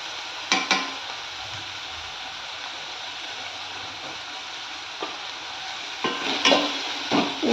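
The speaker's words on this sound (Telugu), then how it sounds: "ఓన్లీ పసుపు వేసి నేను ఫ్రై చేస్తున్నానండి" Turmeric fries in a pan with a soft, steady sizzle. Sharp clinks and scrapes of a stirring utensil come in a couple of pairs near the start and in several quick strikes toward the end, and no one speaks.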